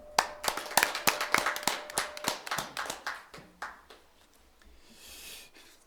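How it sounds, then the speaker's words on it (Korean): Sparse clapping welcomes a speaker at a science and technology seminar, distinct individual hand claps in a quick irregular rhythm that thin out and stop after about four seconds, leaving quiet room sound. "박수로 환영해 주시기 바랍니다"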